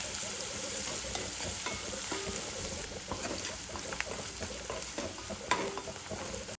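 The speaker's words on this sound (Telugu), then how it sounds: "ఈ ఉల్లిపాయలు గోల్డెన్ బ్రౌన్ కలర్ వచ్చేంత వరకు వేయించుకోండి." Sliced onions with salt fry in a pan for a bottle gourd curry, giving a close, continuous sizzle with occasional stirring scrapes throughout.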